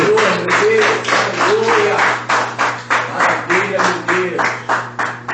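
A large church congregation claps together in steady bursts that rise and fall, loud and close, with a low hum underneath and occasional voices mixed in.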